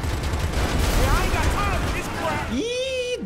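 Rapid bursts of tank-mounted machine-gun fire in GTA 5, dense and continuous, mixed with game sounds and overlapping a talking voice, ending in a short rising tone.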